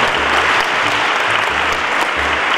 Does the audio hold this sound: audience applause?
yes